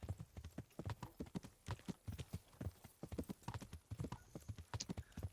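Steady hoof clip-clops of a horse in the video game Kingdom Come: Deliverance, a quick, even trot, close and clear, with no voices over them.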